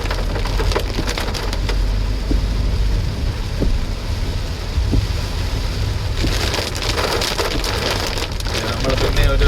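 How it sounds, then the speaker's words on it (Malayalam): Heavy rain drums steadily on a car moving along a flooded forest road between Palode and Trivandrum via Nedumangad, with a dense constant wash, intensifying bursts toward the end and occasional faint knocks. "മഴ കുറച്ചൊന്ന് കുറഞ്ഞു"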